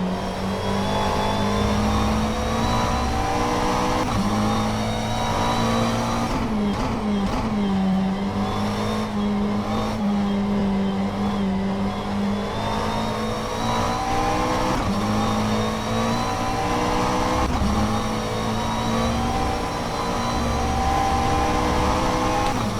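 GT3 race car in rFactor 2 at the Mugello circuit, a loud continuous engine note rising and falling through gear changes and corners, sustained for the whole stretch with no talk.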